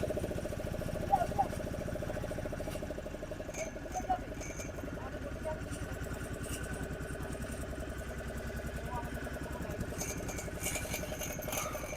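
A boat's engine runs as the boat pulls away, a steady, continuous low drone that holds level throughout with faint background sounds.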